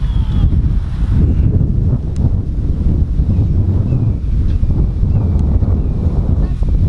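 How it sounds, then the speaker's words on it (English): Strong wind buffets the microphone in a constant low roar, gusting steadily throughout with no clear voices. "it's gotten windy out of nowhere"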